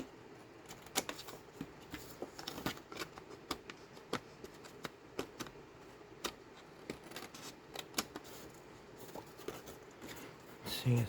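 Paper for a four-panel folio being cut along a guide, with a run of faint, quick ticking snips and scraping rustles spread across the stretch, soft and close against a low background hum.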